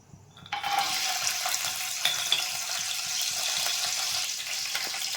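Lentils hit hot oil in a pan for upma and break into a loud, steady sizzle after a brief quiet start, the hiss continuing close and unbroken to the end.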